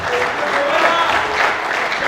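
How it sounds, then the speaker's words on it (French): A conference audience in Kinshasa gives a dense, steady round of applause that is loud and sustained for a couple of seconds, with a few voices faintly mixed in. "Applaudissez pour moi alors."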